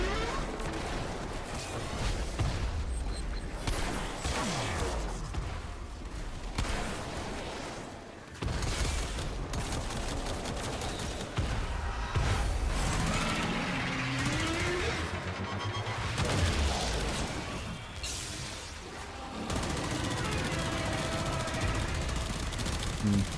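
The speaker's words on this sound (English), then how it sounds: "So phase 1 is shoot with the amp" Amp weapon firing in the Warframe video game, a dense stream of bursty energy shots with crashing impacts running loud and continuous throughout, with voices and game effects layered over it.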